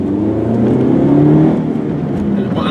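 A stick-shift 2006 Saturn Vue FWD with a 4-cylinder engine pulls away under acceleration, its steady engine drone climbing in pitch as revs build, close and loud throughout without talk.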